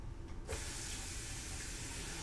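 Tap water switches on abruptly and runs steadily for about two seconds while a Karve razor is rinsed beneath it, a soft close splashing hiss with no talking.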